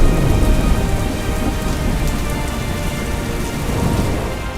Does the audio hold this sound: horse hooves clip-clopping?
no